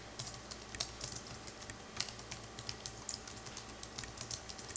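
Quick, irregular keystrokes on a computer keyboard while entering data into an Excel spreadsheet, clicking steadily and fairly close over a low background hum with no talking.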